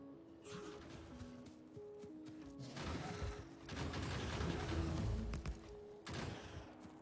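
Turret gunfire in a video game, heard as bursts of rapid mechanical shots and impacts at moderate distance, swelling in the middle and returning briefly near the end over a steady background hum.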